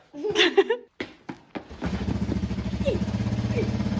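A 1983 Suzuki LT 185 ATV coughs through a few starter cranks and sputters, then catches and settles into a steady, close, fast-pulsing single-cylinder idle, with a voice briefly heard at the start.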